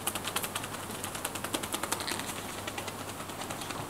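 Rapid hacking tapotement massage strikes land in a light, even rhythm, a fast string of soft close patters that keeps a steady pace throughout.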